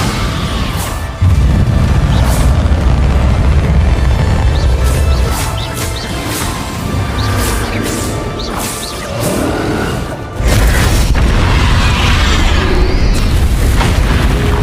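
Bombarda spell blasts in the video game Hogwarts Legacy, loud booming explosions with rumbling low end and bursts of debris and whooshes, repeating throughout with no pause.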